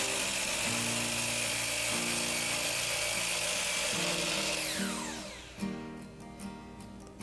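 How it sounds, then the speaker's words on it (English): A power tool whines loudly and steadily as it mills and cuts cherry boards to width, with pitch shifting as the cut proceeds, then winds down into a few sharp clatters and knocks. "I'm milling the boards, cutting them to width"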